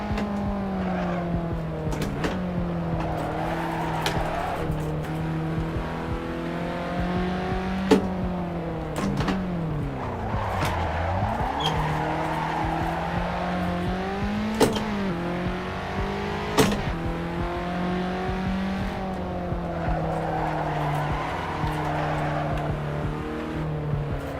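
Engine of a car held at full throttle in the racing game Assetto Corsa during a night touge run, a steady loud drone with brief pitch dips at gear changes and occasional sharp clicks, no voices.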